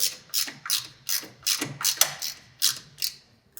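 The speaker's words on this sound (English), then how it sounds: "Caleb tightened the bolts again." A ratchet wrench tightens the fairing stay mounting bolts on a 2018 BMW S1000RR, giving about ten quick, crisp clicking bursts in a close, steady rhythm with nothing else heard.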